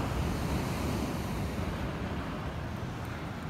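Surf rolls in steadily on Culburra Beach at night, a dense, continuous wash of breaking waves close by with some wind buffeting the microphone and no voices.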